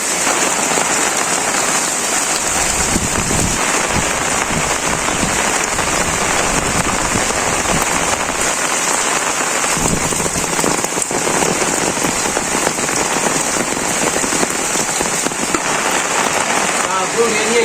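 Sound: heavy rain falling

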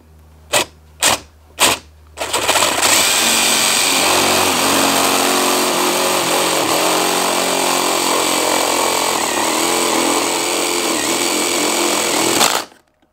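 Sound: power drill drilling a hole through stucco wall

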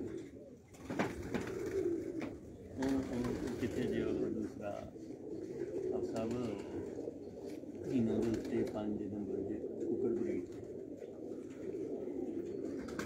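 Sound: pigeons cooing

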